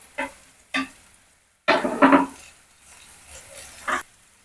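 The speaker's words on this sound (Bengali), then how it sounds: "এটাকে একটু ফ্রাই করে নেব" Onion, tomato and green chili fry in a pan, giving short bursts of sizzling and stirring separated by quieter gaps, with one louder, sustained sizzle in the middle.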